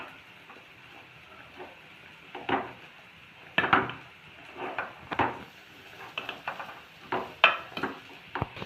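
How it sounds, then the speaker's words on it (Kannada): Hands mix rice flour dough with oil in a bowl, making soft rubbing and squishing sounds with intermittent knocks against the bowl. The sound is close and uneven, with no talking. "ಇಲ್ಲಿ ನಾವು ಹಿಟ್ಟನ್ನು ಮಿಕ್ಸ್ ಮಾಡ್ತಾ ಇದ್ದೀವಿ"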